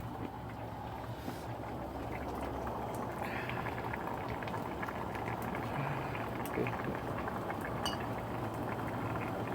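Water boils steadily in a wax melting pot outdoors, a dense continuous bubbling hiss with faint clinks and ticks, near and unbroken, no voices.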